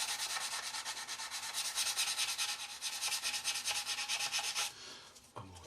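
A coarse file rasps rhythmically across a plastic part of a 1/32 Trumpeter Swordfish model kit, close and steady strokes in a quick repeating pattern, ending with a brief pause and a couple of final scrapes.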